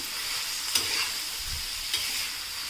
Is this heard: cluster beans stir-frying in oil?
yes